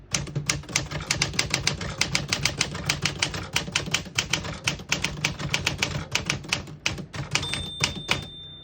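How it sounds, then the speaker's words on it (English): Rapid keystrokes on a 1959 Smith-Corona Galaxie portable manual typewriter, a steady run of sharp, close clacks in quick rhythm with a brief pause near the end and no talking. "Very nice typing machine."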